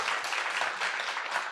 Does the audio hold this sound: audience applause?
yes